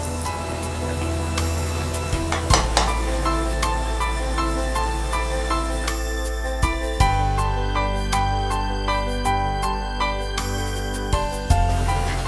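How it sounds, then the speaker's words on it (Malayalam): Egg wraps deep frying in hot oil, a steady close sizzle and crackle running alone throughout, with a few brief clinks and bumps along the way. "എണ്ണ നല്ല ചൂടായി കഴിഞ്ഞു. ഇനി ഓരോന്നോരോന്നായിട്ട് എണ്ണയിലിട്ട് വറുക്കുക."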